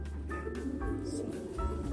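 Homing pigeon cooing in a loft, soft low rolling coos repeating close by, with some voices and room noise underneath.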